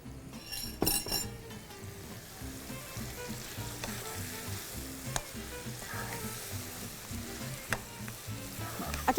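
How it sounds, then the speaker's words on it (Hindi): Mutton mince fries with carrots and fenugreek in a pan, giving a steady, close sizzle. It is broken by repeated clinks of a utensil stirring against the pan, with a few sharper clanks. No talking. "हमारे पास मटन है तो ये मैं इसमें शामिल कर दूँगी और अब इसकी भुनाई होगी धन धना धन।"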